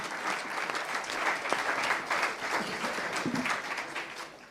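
Conference audience applauding, a dense, steady burst of many hands clapping at moderate volume, lasting throughout without speech.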